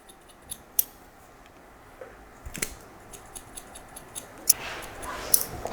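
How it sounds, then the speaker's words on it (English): Scissors snip repeatedly into a hair fringe during a short haircut, a series of faint, irregular close-up clicks and snips spaced across a quiet background. "I'm going to point cut into this fringe"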